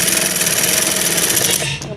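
A sewing machine stitches a princess-cut kurti in a steady, dense, fast run that stops near the end, with a voice faintly beneath.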